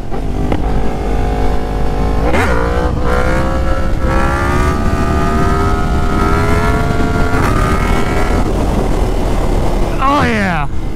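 A Yamaha FZ10 motorcycle fitted with an R1 header and stock muffler revs hard and accelerates, its engine pitch sweeping up through the gears, loud and close, ending in a sharp rising rev.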